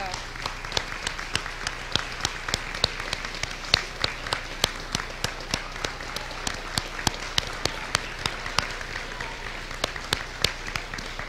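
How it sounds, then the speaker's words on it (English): Graduation ceremony audience applauding, a steady wash of many hands clapping with sharp individual claps standing out, moderately distant and continuous throughout, with faint voices underneath. "I would like to ask all those special people to stand so that our graduates can take a moment to applaud"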